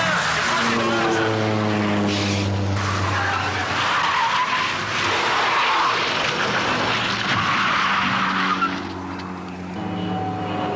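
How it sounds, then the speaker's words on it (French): A car brakes hard and skids in a long screeching slide under an aircraft's droning propeller, heard in the 1988 French film Les Chevaliers du Ciel, with people talking over the noise. "Tu t'en fous de la bagnole, elle va freiner."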